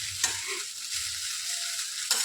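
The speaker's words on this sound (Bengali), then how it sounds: "মা এটা নেড়ে দিচ্ছে" Chowmein fries and is stirred in a pan, giving a constant close sizzle. Soft scraping strokes of the spatula cut through it at intervals, with no talk.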